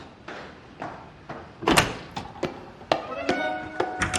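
A door is knocked on or banged repeatedly at night, a series of sharp, close thuds and knocks in an uneven rhythm, with one louder bang among them.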